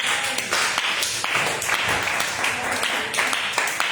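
A church congregation clapping and cheering in praise during a worship service, a dense, steady wash of applause and raised voices that holds for the whole stretch.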